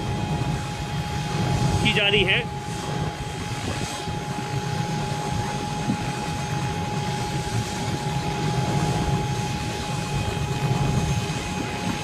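Helicopter carrying a bride and groom at a wedding in Barmer, a steady moderate engine drone throughout, with someone talking over it and crowd murmur in the background.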